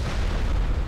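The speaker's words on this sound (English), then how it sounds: "Knocked out by a magical explosion." A deep, rumbling magical explosion from the fantasy video game Enderal, a brief boom with heavy low-end weight that fills the whole moment without any talk.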